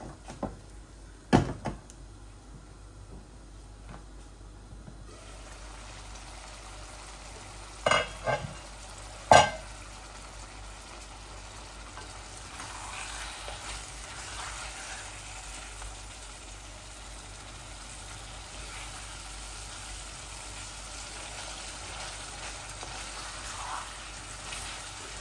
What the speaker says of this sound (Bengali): একটু সময় নিয়ে ভাজতে হবে কেরালাটা।